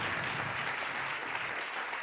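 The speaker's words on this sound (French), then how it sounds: "Je pense qu'on peut l'applaudir." An audience at a welcome session on mobility breaks into steady applause, a dense even clatter of many hands clapping close by, with no voices over it.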